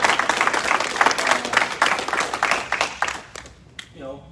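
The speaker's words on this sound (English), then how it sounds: "So big round of applause again." A room full of people claps steadily for a few seconds at a first degree black belt promotion, the applause thinning out toward the end as a voice begins.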